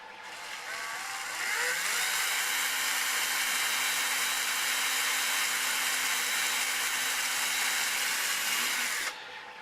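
A power drill whines steadily as it bores into an ABS plastic flashlight, rising after a brief start and running continuously before cutting off near the end.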